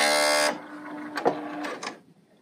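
An L890 serger sewing machine runs a rapid, steady stitching burst through fabric for about half a second, then stops, followed by a few faint handling clicks and knocks.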